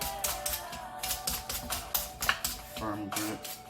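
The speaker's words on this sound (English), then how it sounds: "I'm going to continue just to cut the rest of it very quickly." A knife chops quickly through butternut squash on a cutting board, giving a series of close, rapid knocks and taps. A voice talks over the cutting.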